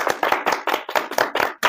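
Hands slapping tobacco, about eight sharp rhythmic slaps in quick succession, loud and close, sounding much like clapping, with no talk.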